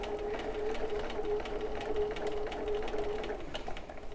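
Sewing machine stitching piping with cotton cording onto thick, layered bag panels, running slowly with a continuous mechanical whir and rapid rhythmic needle ticking, close and moderately loud, with no talking.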